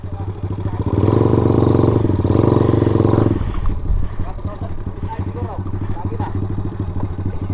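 A motorcycle engine revs loudly nearby for a few seconds, then settles into a rough idle while people talk over it, on a roadtrip to Barangay Nong-Nong, Butuan City.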